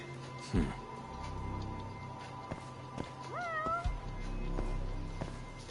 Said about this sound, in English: I could hear a cat.